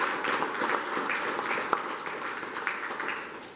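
Fairly faint, slightly distant applause from an audience at a town council event, a steady patter of many hands with a few sharper individual claps standing out.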